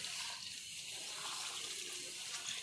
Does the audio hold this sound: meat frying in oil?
no